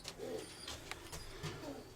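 Pigeons cooing in a dovecote, soft low throaty coos repeating a few times close by, with faint fluttering and rustles between them and no speech.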